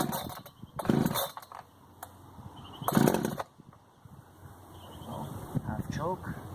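An Echo Timber Wolf CS590 chainsaw being pull-started with the chain brake on and the choke out: two sharp rope-pull rattles spaced a couple of seconds apart, the engine not catching, with a voice talking quietly between pulls.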